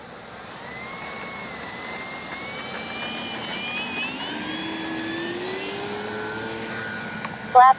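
An FMS P-47 Thunderbolt RC model warbird flies past with a steady motor whine that rises and bends in pitch as it banks, heard from the ground at a moderate distance under wind noise.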